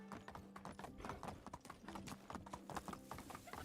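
Horse hooves clip-clop at a steady trot while riding in the medieval village game Medieval Dynasty, close and continuous, with a faint whinny and soft background ambience.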